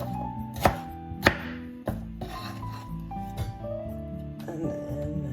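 A knife chops a medium-sized piece of ginger, with a few sharp, close cuts in an irregular rhythm against a board amid soft rubbing and scraping.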